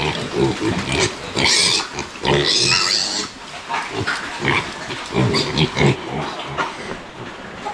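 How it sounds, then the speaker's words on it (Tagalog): Pigs in heat squealing and grunting loudly and repeatedly, with bursts of high-pitched squeals over a continuous noisy pen background. "Ito po yung baboy natin na naglandi."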